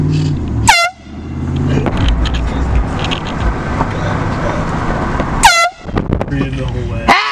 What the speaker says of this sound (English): We're gonna blow the air horn at people.